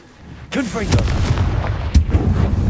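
A Confringo fire spell blasts in Hogwarts Legacy, a sharp burst followed by a second crackling impact, over a sustained rumbling roar with a brief voice at the start.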